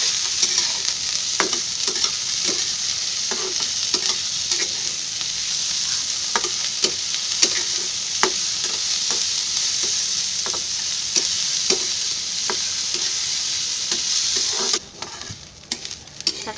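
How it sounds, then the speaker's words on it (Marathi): Onions with salt fry in a pan, with a continuous loud sizzle and a regular rhythm of spatula scrapes and clicks as they are stirred. Near the end the sizzle drops away into quieter clatter. "म्हणजे कांदा कसा लवकर भाजतो."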